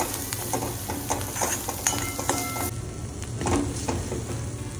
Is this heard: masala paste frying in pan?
yes